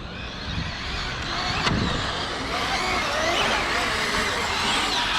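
An Arrma Felony 8S RC car drifts with a continuous high-revving electric whine and tyre scrub, steady and fairly close over background noise, with a voice speaking nearby.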